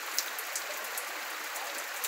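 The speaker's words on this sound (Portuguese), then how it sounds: "Vejamos aí muita chuva" Heavy rain pours steadily in the early morning in Joaquim Gomes, Alagoas, a dense, even hiss of drops on surfaces with occasional sharper splashes, continuous and unbroken.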